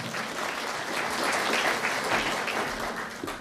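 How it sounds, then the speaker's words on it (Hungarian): Audience applause at a community Advent event: a warm, full round of clapping from many people, steady and fairly close, swelling slightly in the middle before tapering at the end. "Taps!"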